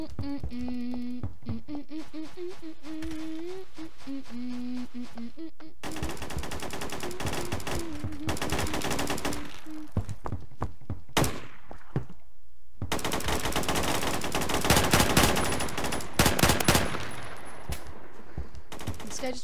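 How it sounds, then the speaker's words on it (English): Glock 18 automatic fire in the video game Phantom Forces, loud rapid bursts and long rattling strings of shots, interleaved with music and a player talking over the action. "I have a Glock 18. This will shoot through your head."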